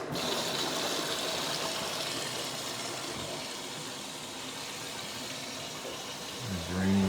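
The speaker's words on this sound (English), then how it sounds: "And draining again." A Whirlpool Duet front-load washing machine drains water in a steady, moderately faint rushing gush, with a low thump near the end.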